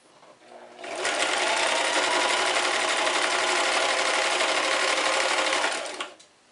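A sewing machine runs a running stitch on a fabric face mask, a loud, steady close whirring hum that starts after a second, holds evenly for about five seconds, then winds down and stops.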